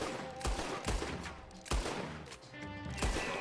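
Gunfire rings out in a Red Dead Redemption 2 gunfight: sharp loud shots at irregular intervals, some paired, over a busy background of echoing fire and game ambience.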